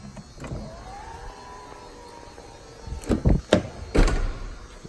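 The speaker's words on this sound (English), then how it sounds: "Has a power lift gate, of course." A Mercedes GLE power liftgate hums as its motor drives the gate, then a few solid thunks ring out as it latches, close and clear with no voices.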